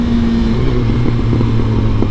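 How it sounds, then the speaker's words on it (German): Suzuki GSX-R 1000 motorcycle engine running loud and close after starting, a steady low rumble with a series of quick popping bursts layered on top, no talking. "Oh, Fehlzündungen sind sowas von am Start."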